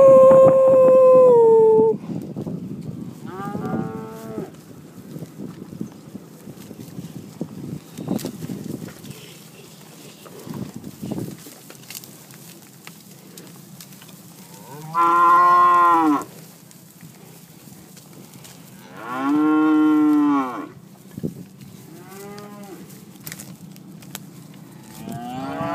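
Charolais cattle moo loudly several times, with long drawn-out calls spaced apart and a quieter rustling background between them.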